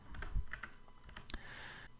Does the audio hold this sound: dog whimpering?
no